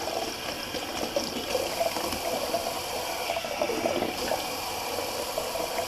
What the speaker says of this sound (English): Just going to do a cold water rinse.